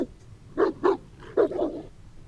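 A dog named Stonewall barks nearby in a cell block in a video game: four sharp, close barks in two quick pairs, with no talk over them.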